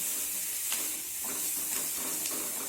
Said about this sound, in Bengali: টমেটো কুচি দিয়ে আর একটু নাড়াচাড়া করে ভেজে নিতে হবে সব কিছু